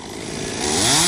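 A chainsaw revs up sharply during tree removal, its engine whine climbing in pitch and loudness over about a second, close and alone.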